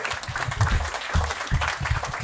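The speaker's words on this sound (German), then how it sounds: "Applaus für euch beide, Mann." Dense applause from a stand-up comedy show audience, steady clapping throughout at a consistent, fairly loud level.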